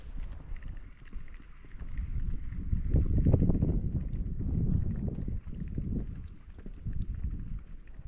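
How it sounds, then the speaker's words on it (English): Wind blowing outdoors in the mountains, a steady low rumbling roar buffeting the microphone, swelling louder in the middle and easing slightly toward the end, with no voices. "The wind has switched directions, which is now pushing me this way"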